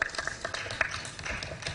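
Steady applause from a crowd at a public debate, dense overlapping claps at moderate volume, heard from a distance.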